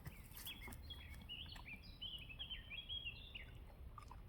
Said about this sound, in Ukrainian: Птички співають, пташки